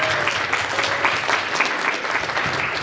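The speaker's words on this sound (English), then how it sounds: "Give yourself a round of applause" A convention panel audience at Power Con claps in a steady, even round of applause, moderately distant and filling the space without pause.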